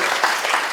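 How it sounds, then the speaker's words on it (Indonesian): A church congregation applauds, a steady dense patter of many hands clapping throughout the short moment. "Beri tepuk tangan dulu buat Tuhan."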